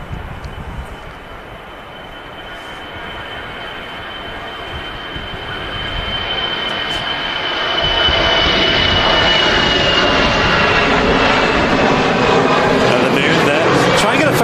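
A large airliner passes at an airport, its jet roar rising from a distant rumble to a loud, steady, broad roar over about fifteen seconds, with people talking over it.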